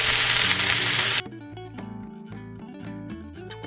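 Sea bass frying in a pan, a loud hissing sizzle for about a second before it cuts out abruptly. Music plays through the rest.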